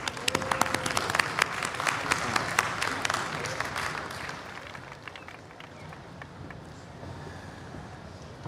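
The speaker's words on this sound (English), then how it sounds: "Let's give him a big round of applause." An audience at a large cultural festival gives a big round of applause, with dense clapping filling the first half and then thinning and fading toward a quieter tail.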